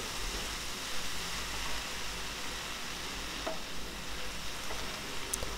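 Mint and coriander leaves sautéed in a pan for chutney, a constant close sizzle with soft stirring scrapes and a couple of faint clinks.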